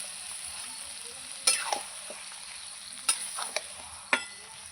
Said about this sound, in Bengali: মাংস ভালো করে কষাতে হবে